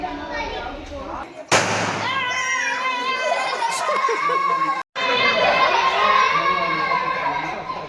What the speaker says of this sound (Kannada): ಪಾರ್ಟಿ ಪಾಪರ್ ಬರುತ್ತಲ್ಲ, ಅದನ್ನು ಬ್ಲಾಸ್ಟ್ ಮಾಡೋಕ್ಕೆ ಟ್ರೈ ಮಾಡ್ತಿದ್ದಾರೆ